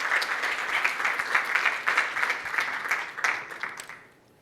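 Audience at an academic workshop minicourse lecture claps steadily in a dense, even burst of applause that holds for about four seconds, then fades out quickly.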